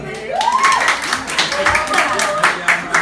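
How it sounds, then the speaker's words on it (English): A crowd at a hosted party event in Houston claps, with scattered sharp hand slaps mixed under loud voices and shouting throughout. "Clap it up."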